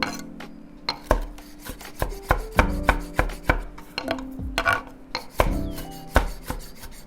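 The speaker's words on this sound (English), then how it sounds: "Roughly chop the parsley and coriander." A knife chops roughly through fresh parsley and coriander on a board, making a quick run of sharp, close taps in an uneven rhythm with no talking.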